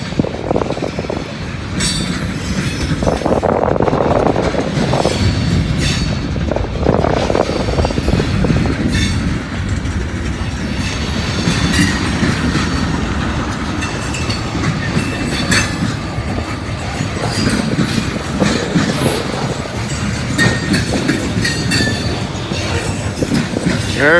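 A heavy B&O freight train rolls past close by, loud and steady for the whole stretch, with rumbling cars, rhythmic clickety-clack over the rail joints and occasional metallic wheel squeal, with no voices.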